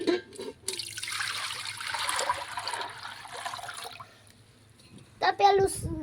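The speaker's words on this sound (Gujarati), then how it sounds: "હવે ભાત મૂકવા છે તો એમાં તપેલામાં પાણી નાખી દે." Water poured from a vessel into a cooking pot for boiling rice, a steady splashing stream that fades off, followed by a brief clatter and a short voice.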